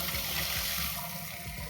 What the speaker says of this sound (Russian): Я включаю воду.